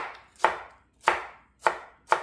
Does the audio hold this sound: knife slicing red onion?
yes